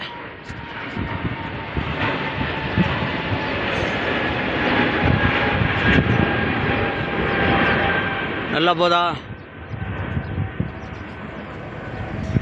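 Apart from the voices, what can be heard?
airplane flying overhead near the airport in Bahrain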